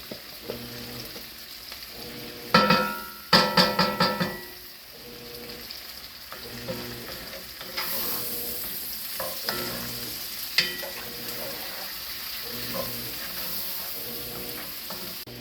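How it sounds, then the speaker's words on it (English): Minced garlic frying in a pot with a pot roast, giving a continuous crackling sizzle that grows denser over time, broken early on by a few loud clattering stirs and scrapes, with no talking. "I'm gonna throw a little minced garlic in there with it too."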